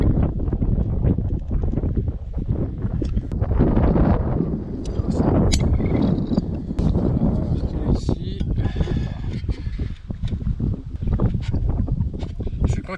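Outdoor wind gusting across the microphone produces a loud, continuous low rumble with buffeting surges, and a person speaks French throughout.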